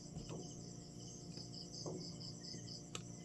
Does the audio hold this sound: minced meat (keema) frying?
no